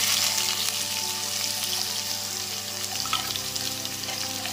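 Onion, dried red chili and a crushed garlic clove fry in hot tempering oil, giving a continuous dense sizzle that softens slightly midway, close and unbroken, with no voices over it.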